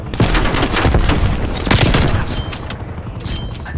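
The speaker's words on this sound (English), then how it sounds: "Enemy napalm strike incoming." Napalm strike explosions in Call of Duty: Black Ops Cold War roll out as dense, loud overlapping booms and crackling bursts that fade slightly toward the end.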